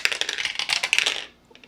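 Dice, including a percentile die, rattle and tumble onto a table during solo tabletop play, a quick close clatter of small hard clicks that dies away after about a second.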